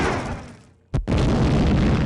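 A mini nuke goes off in the video game Postal 2: a short gap of near silence, a sharp blast, then a loud sustained roar of explosion that fills the rest of the moment.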